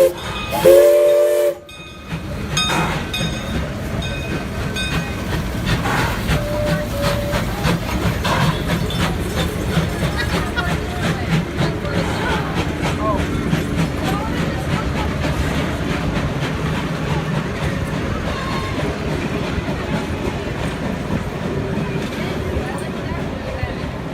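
Baldwin-built 1918 0-4-0T steam tank locomotive No. 7 of the Buckley Railroad running at the Old Engine Show, opening with a short whistle blast and settling into a steady, close, hissing rumble, with voices heard along the way.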